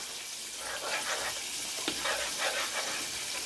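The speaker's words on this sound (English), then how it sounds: "you have to stir this corn like every 5 minutes so it won't stick" Corn cooking in a pan on the stove sizzles steadily while a spoon stirs it in short scraping strokes, close and moderately loud, with no voices.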